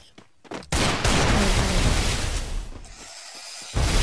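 Gunfire in the mobile shooter Free Fire: after a few faint clicks, a loud, sustained burst of rapid shots erupts up close, fades into a lull, then another sharp blast hits at the end.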